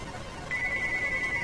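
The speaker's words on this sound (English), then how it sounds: "Phone's ringing." An electronic phone ringtone in the video game FEZ starts partway through as a steady, clear tone that holds to the end over a quiet game background.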